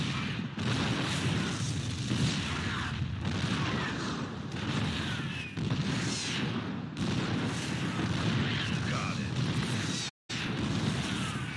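Siege tanks in StarCraft 2 pound away at Protoss cannons, a dense, continuous barrage of heavy booming blasts layered over battle noise, steady and loud throughout with one brief dropout near the end.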